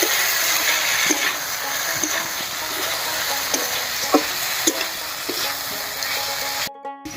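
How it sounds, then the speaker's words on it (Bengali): Pre-fried fish added to a sizzling pan in a village kitchen, a constant frying hiss with regular spatula taps and scrapes close by, cutting off sharply at the end. "এবার ভেজে রাখা মাছগুলো দিয়ে দিচ্ছি।"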